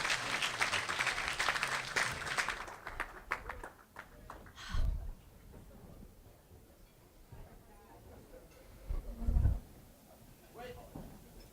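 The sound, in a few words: audience applause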